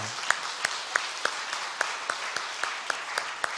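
Church congregation applauding, a loud, steady burst of many hands clapping together in a reverberant hall, with clear rhythmic claps evenly spaced throughout and faint voices underneath.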